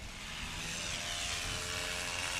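A STOL airplane taking off at a short-takeoff competition at Hartford airport in Wisconsin, with a loud, steady propeller engine drone that builds slightly over a few seconds.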